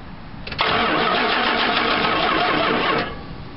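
A 1972 Dodge D200 engine cranks briefly and catches, then runs loud and steady for a few seconds before cutting off, recorded close.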